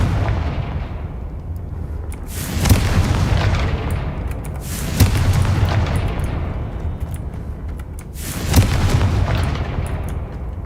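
Repeated Confringo spell explosions in Hogwarts Legacy boom at intervals of a few seconds, each a sharp, loud blast that sweeps down into a rumbling tail over constant background game noise.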